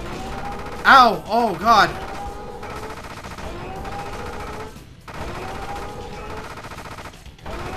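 Rapid enemy fire and homing missile blasts in the Gigantic Army side-scrolling mech shooter, a loud stuttering barrage with wavering electronic tones up front, then continuing game noise while a player yelps and groans over it.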